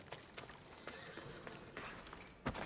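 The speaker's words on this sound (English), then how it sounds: "Hello, horse." A horse in the video game Assassin's Creed Odyssey, with hoof clip-clops and snorting over a noisy outdoor game ambience, fairly faint and without talking.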